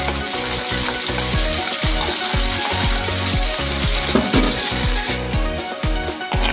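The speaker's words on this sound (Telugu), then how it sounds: "కరివేపాకు బాగా ఫ్రై అవ్వాలి ఫ్రెండ్స్" Curry leaves frying in hot oil for a crab curry give a steady sizzling hiss throughout, with rhythmic background music playing underneath.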